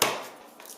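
A knife cuts through the end of a garlic clove on a cutting board, one sharp close chop that fades out quickly.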